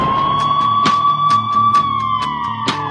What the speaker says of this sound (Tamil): ஆம்புலன்ஸ் வழி விட்டுருங்கப்பா